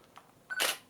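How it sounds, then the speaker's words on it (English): A Nikon D810 DSLR fires its shutter once with a short electronic focus beep just before, a single crisp close click with a brief mechanical release. "This, the actual shutter, so much more quiet. I've got the beep on"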